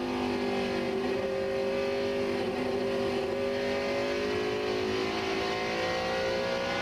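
A NASCAR stock car at the 2001 New England 300 pulls hard off a corner, its engine droning loud and steady, pitch climbing slowly as it accelerates, heard close-up and alone.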